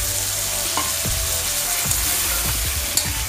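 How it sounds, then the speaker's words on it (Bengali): Eggplant gravy ingredients being stirred in a frying pan: a continuous close sizzle with regular low scraping strokes of a spatula every half second or so, no talking. "এবার এই উপকরণগুলোকে কিন্তু আমি ভালো করে আবার নেড়ে চেড়ে দেবো এইভাবে।"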